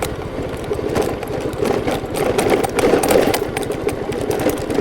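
A motorcycle engine runs steadily at close range on a Pangasinan road, giving a continuous mid-pitched putter with fast regular pulsing and no voices over it.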